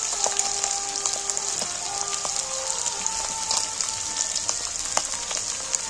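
Chopped onions frying in a spoonful of oil with a steady, dense sizzle and crackle, close and continuous, with a few faint clinks of a utensil and no voices.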